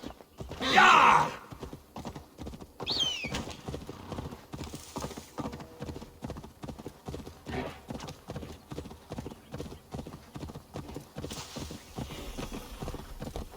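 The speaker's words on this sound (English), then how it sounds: "One horse." Horse hooves from Assassin's Creed Valhalla clip-clop in a steady, fast rhythm throughout at moderate loudness, with a brief whinny-like burst near the start and light game sounds and speech mixed in.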